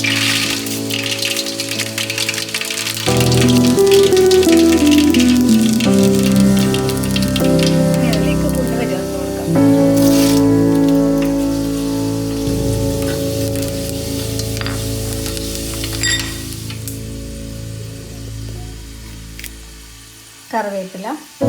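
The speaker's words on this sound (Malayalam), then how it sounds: "നമുക്ക് അതിലേക്ക് ആദ്യം കടുകിട്ട് കൊടുക്കാം." Mustard seeds splutter and sizzle in hot coconut oil, the base for a Kerala village fish head curry. The crackle is steady and close throughout, with tonal music or voices running beneath it.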